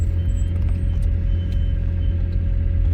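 A car engine pulls uphill with a steady, heavy low rumble that holds close and loud throughout, with no voices over it.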